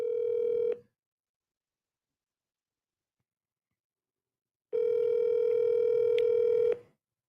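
A phone call rings out with two long electronic ringback tones separated by several seconds of silence before a voicemail greeting, the tones loud and clean with no talk over them.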